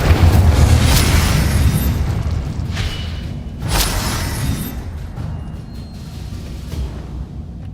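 An Incendio fire spell blasts in Hogwarts Legacy with a loud rumbling roar, then a few sharper bursts crack out over it as the fiery boom slowly fades.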